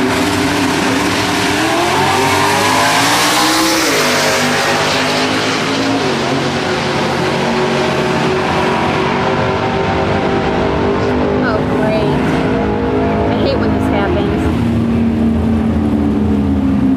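A Chevelle roars down the drag strip at Norwalk Raceway Park, its loud engine screaming through gear changes in a sustained, close, overpowering run, with an announcer's voice underneath.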